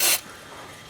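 A brief, loud burst from an aerosol spray can hisses into the holes of a 1978 Nova roof liner, cutting off after a fraction of a second into quiet.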